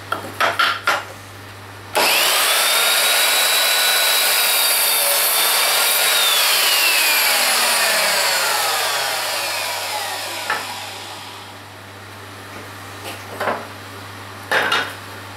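An Evolution Fury 3-S mitre saw cuts a mitre through a piece of wood for a frame, a loud steady whining rasp lasting about ten seconds, then winding down, with brief clunks of handling before and after.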